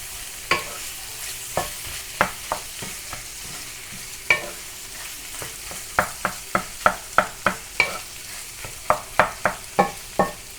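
A spatula presses vada pav potato filling down in a pan, giving a run of sharp, close scraping taps at an irregular pace, some single and some in quick clusters, with faint cooking noise between and no talk.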